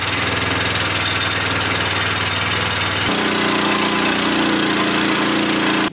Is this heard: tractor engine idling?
yes